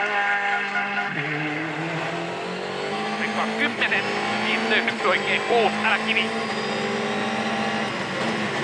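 A Volkswagen Polo R rally car climbs a winding mountain stage of the 2013 Rallye de France Alsace, sliding slightly under counter-steer. The engine note rises and falls through gear changes, with a commentator talking over it.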